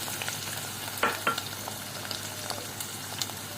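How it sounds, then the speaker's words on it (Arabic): Shrimp stir-frying with onion in a pan, a soft steady sizzle with a few louder stirring scrapes and clinks near the middle, close and fairly quiet, with no talking. "هفضيه طبعا على البصله، واقلب فيه شويه، اشوحه كويس لغايه اما ياخد سواه تمام كده."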